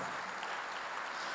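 A church congregation claps together in steady, dense applause that fills the whole moment without pause, recorded from within a large worship hall.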